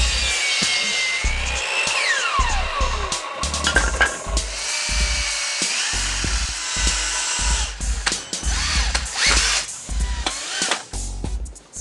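A power drill drives screws into wooden bicycle stands, whining loudly in repeated bursts that rise and stall, with wood creaks and clatter of handling between runs.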